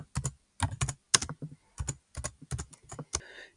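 Typing on a computer keyboard: quick, close, distinct clicks in short uneven bursts separated by brief pauses, with no voices.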